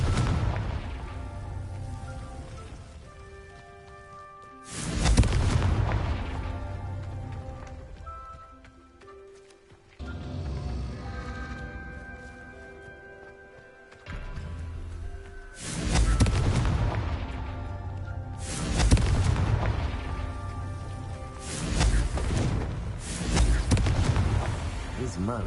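Spell explosions from Confringo in the Hogwarts Legacy video game, booming blasts that burst in repeatedly over a droning musical score, with a short spoken incantation among them.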